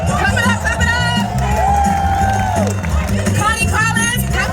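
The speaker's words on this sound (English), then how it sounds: "Clap it up for yourselves, y'all." A crowd at a Chocolate City gathering claps and cheers loudly and continuously, with whoops and chatter mixed in, while a deep musical bass line pulses underneath throughout.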